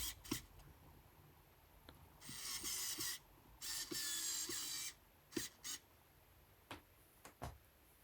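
A handheld screwdriver drives four screws back into the housing of a Makita multi tool, heard as several separate bursts of buzzy whirring and ratcheting with sharp clicks and taps in between, close by in a quiet room.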